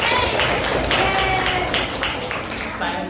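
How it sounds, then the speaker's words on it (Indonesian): A junior high school class claps briefly on request, a loose scattering of hand claps in a classroom, fairly close and settling quickly, with some voices mixed in. "beri tepuk tangan dong."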